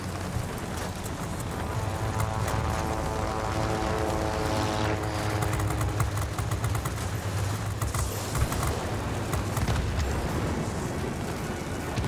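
The propeller engine of an A4N fighter plane drones steadily in a flight combat video game, a loud continuous buzzing hum with a low rumble beneath, with no one speaking.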